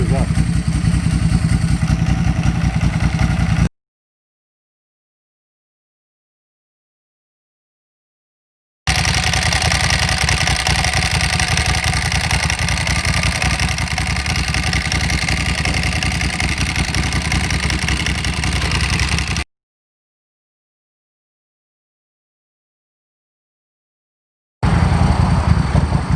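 2006 Ducati Classic Monoposto motorcycle engine running loud and close in a workshop, a steady rough mechanical drone heard in several segments separated by silent cuts.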